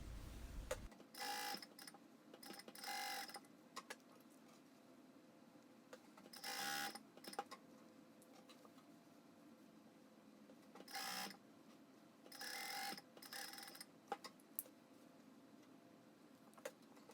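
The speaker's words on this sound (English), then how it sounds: "Stitch all layers together using a 7mm seam allowance." A sewing machine stitches through stacked shirt collar layers in several short whirring runs separated by pauses, with a faint steady hum throughout and no talking.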